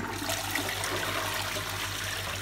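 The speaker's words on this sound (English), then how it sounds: "Obviously when it's full you get a better flush." A toilet cistern fitted with a Fluidmaster flapper flushing, a steady rushing gush of water that runs continuously, close and fairly loud, with no voices over it.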